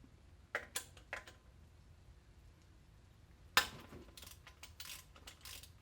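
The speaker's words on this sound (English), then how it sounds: "Switching to a longer ratchet has a flex on it." A flex-head ratchet works a 12mm bolt loose on a 2010-2013 Mazda 3 during starter replacement, giving a few sharp clicks and metallic clatters near the start, then a louder burst of rapid ratcheting in a quiet garage.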